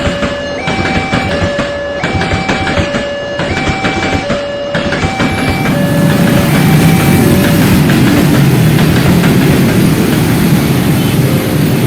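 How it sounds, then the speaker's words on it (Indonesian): At a railway crossing, a loud, repetitive two-tone warning bell rings at close range, then a heavy train rumbles past with broadband roar and rattling, no speech. "kamu dihalangi macet karena perlintasan kereta api"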